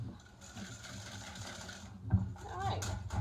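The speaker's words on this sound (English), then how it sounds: "So we're going to whisk this together" Batter for a chocolate zucchini loaf made with two kinds of chocolate is whisked in a bowl, a steady close scraping whir with a person speaking softly near the end.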